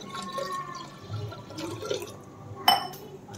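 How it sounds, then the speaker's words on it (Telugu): Water is poured into a cooking pot holding cooked dal, a soft splashing and gurgle with faint clinks and one brief louder splash near the end, quiet overall. "కొంచెం వాటర్ వేసేసుకుందాం."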